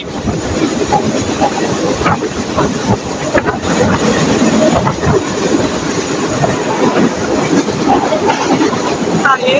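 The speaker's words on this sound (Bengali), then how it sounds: "কি জোরে যাচ্ছে আমাদের চিত্রা এক্সপ্রেস ট্রেনটি" The Chitra Express train roars steadily along the tracks, with constant loud rattling and clacking of wheels throughout.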